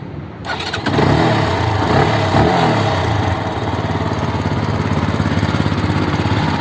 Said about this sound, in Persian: حالا یک تست صدا هم از این موتور داشته باشیم